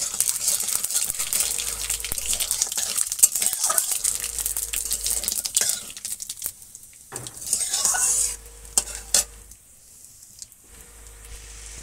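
Eggplant frying in oil in a pan in a village kitchen: steady sizzling hiss with scraping stirs and clinks of metal utensils against the pan, easing and thinning toward the end.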